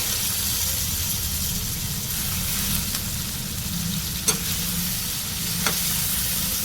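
Tomato curry with mint and coriander fries in a pan with a steady, dense sizzle, and a couple of sharp clicks from stirring.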